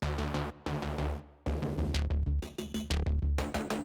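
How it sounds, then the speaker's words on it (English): Pulsing synthesizers chug along in a driving rhythmic pattern, loud and layered, with short breaks between phrases. "I wanted to create some moving synths that feel like they're chugging along"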